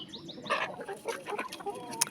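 Backyard chickens in a coop cluck in short, busy bursts at close range, with overlapping calls and scattered movement noise throughout.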